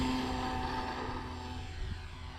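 A Dancing Wings Hobby Stick 14 remote-control foam plane comes in to land without flaps, its small electric motor giving a faint, steady airy drone that slowly tapers off.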